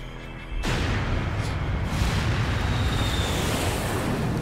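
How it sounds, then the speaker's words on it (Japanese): Artillery cannon fire in the video game Attack on Titan 2 Final Battle: a sudden loud blast erupts after a short lead-in and sustains as a dense, rumbling roar of bombardment through the rest of the moment, with no talk over it. "砲撃より早く動いてるけど、砲撃がトーン、砲撃見えてる"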